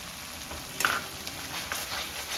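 Gobindobhog rice being stirred through cooked-down spice paste in a pan, giving a steady soft sizzle with scraping stir strokes and a brief louder clatter near the start, no voices.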